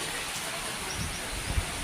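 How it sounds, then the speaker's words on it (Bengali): Heavy rain pours down in a continuous, dense hiss that fills the whole span, with a few soft low thumps near the end. "কি পরিমাণ বৃষ্টি যে নামছে বাবারে"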